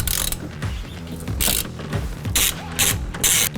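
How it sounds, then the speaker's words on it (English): A hand ratchet with an 11mm socket turns the OEM fuel tank strap bolts on a Mercedes Sprinter, giving rapid clicking pawl bursts in several strokes between short pauses, close and loud. "with the rear strap with an 11mm socket, we are going to be removing the rear strap"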